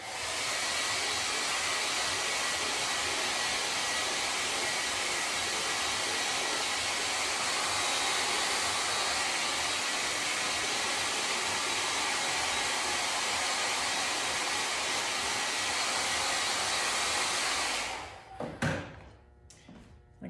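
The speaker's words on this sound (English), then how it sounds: "you can hit it with a blow dryer" A hair dryer blows on wet ceramic glaze in a steady, loud whoosh for most of the clip, then cuts off, followed by a few light knocks and handling sounds.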